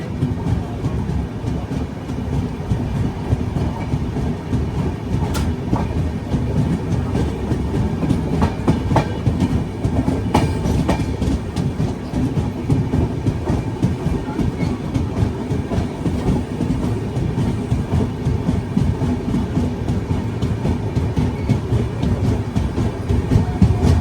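Train with spare LHB coaches rolls along railway track with steady clickety-clack of wheels and a continuous loud rumble throughout.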